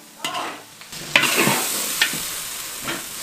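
Chicken stir-frying with soybean paste in a wok, a steady close sizzle with scraping spatula strokes and clanks against the metal, recurring every second or so, no talk.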